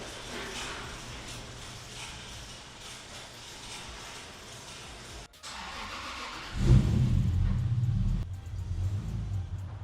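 A Toyota Supra that does not currently run is moved out of a garage bay, its engine rumbling low and steady, then surging louder as it rolls away near the end.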